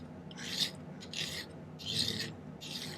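Hand filing on a silver bracelet link gives four rasping strokes in a slow, even rhythm, close and fairly quiet, with no talking.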